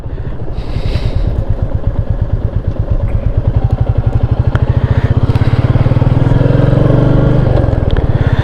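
A Royal Enfield Meteor 350 motorcycle rides along by the sea, its single-cylinder engine thumping in a steady, loud rhythm that builds slightly as it accelerates, close and continuous throughout.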